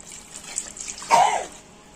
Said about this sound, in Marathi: आता पाणी आहे ना ओतून घ्यायचं